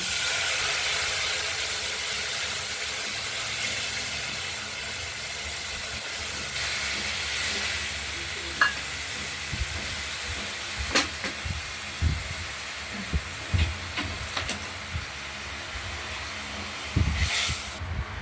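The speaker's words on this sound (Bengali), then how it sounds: "আলু এবং টমেটো ভাজা ভাজা হয়ে গেছে। এবার দিয়ে দেবো মশলা কষানোর জন্য।" Spices hiss and sizzle in hot oil with fried potatoes and tomatoes, a steady close, broadband frying hiss with occasional pops and utensil knocks growing more frequent toward the end, without talking.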